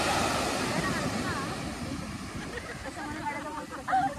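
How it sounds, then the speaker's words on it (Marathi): Surf from the Arabian Sea along the Kerala coast, a steady broad wash of waves with wind buffeting the microphone, while people talk faintly over it and a brief louder swell rises near the end. "actual Arabian C"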